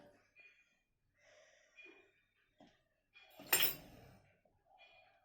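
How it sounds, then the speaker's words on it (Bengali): A fork presses marks into soft egg biscuit dough, giving a few quiet, scattered taps and scrapes with one sharper metallic clink partway through, in an otherwise near-silent kitchen. "তারপর আমি এটাকে কাঁটা চামচ দিয়ে দাগ করে নেব।"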